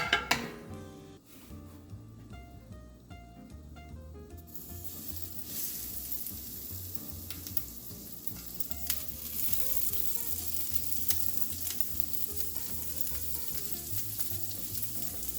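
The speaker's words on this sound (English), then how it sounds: "we're gonna proceed to cook these until they are slightly charred on each side" Vegetable kebabs frying in avocado oil in a pan on a stovetop, a steady loud sizzle and crackle throughout, with a few light clinks of utensils early on.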